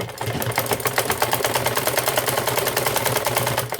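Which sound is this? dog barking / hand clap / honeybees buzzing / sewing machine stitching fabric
sewing machine stitching fabric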